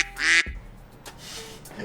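A single loud, close duck quack sound effect bursts out at the start and is followed by quiet room tone, with no talking.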